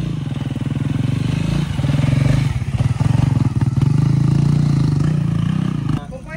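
A Suzuki Raider 150i motorcycle engine runs loud and close, a steady low throbbing with a brief rise in revs partway through before settling; a voice talks over it now and then.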